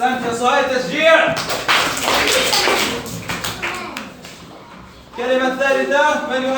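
A second-grade classroom of children bursts into a burst of rapid, close clapping lasting a few seconds, framed by an adult's voice speaking before and after.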